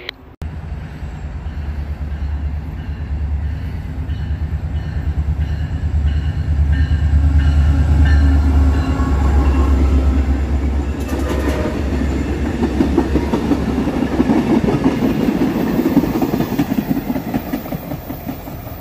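A freight train passes at St. Denis with a loud continuous rumble and rhythmic clickety-clack of wheels over rail joints, and a horn sounds briefly toward the end.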